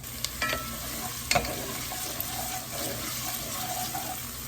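Vegetables for a Panera-style tomato soup sweat and sizzle gently in a pot, giving a steady soft frying hiss broken by a few stirring clinks. Nobody speaks.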